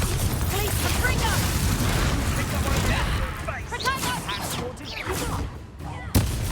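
Confringo fire spell blasts in Hogwarts Legacy, heavy booming explosions and crackling impacts layered over combat effects and game voices, with a sharp final burst near the end.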